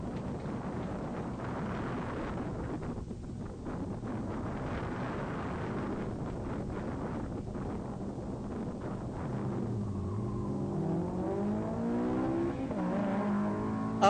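A Mitsubishi Evo and a Honda S2000 leave an autocross start line at a ProSolo event, engines rising in pitch from a steady wind-buffeted roar, revving up near the end and heard from a short distance.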